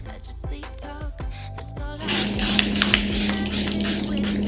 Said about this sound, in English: This is the Charlotte Tilbury setting spray